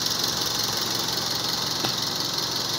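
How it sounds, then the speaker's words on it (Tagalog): A second-generation Toyota Vios engine, with its cylinder head recently worked on, runs steadily with a knocking fault, giving a constant close mechanical drone with no voices. "Masirang knocking sounds."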